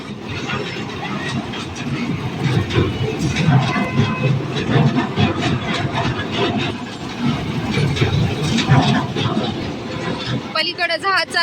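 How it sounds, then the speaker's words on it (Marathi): An amusement park ride train runs on its track at dusk, a steady rumbling and clattering with hissing that continues throughout, amid background voices, ending with a brief rattle. "इथं ट्रेन चालू आहे"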